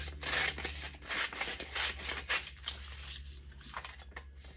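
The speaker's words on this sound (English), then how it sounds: "Now I'm going to take my scissors" Large scissors snip through small waxed fabric butterflies in a series of close, crisp cutting strokes with brief pauses between them, heard alone without talk.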